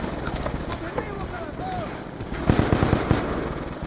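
Gunfire in Call of Duty Black Ops 2, heard as a short cluster of rapid shots near the end over dense game ambience with someone talking throughout.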